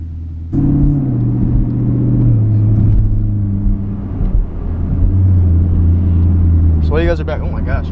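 Chevrolet Camaro SS engine kicks in with a deep, loud rumble that holds steady while driving, low tones shifting as it moves, with a voice briefly heard near the end.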